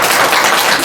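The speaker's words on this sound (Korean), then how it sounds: "박수 한번 치겠습니다" A church congregation claps together at a Korean Protestant service, a short dense burst of applause filling the room at close range with no voices over it.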